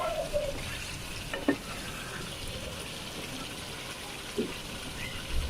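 Chicken cooking in a spice masala gives a soft, steady frying sizzle, with a few faint scrapes and clicks of stirring over it.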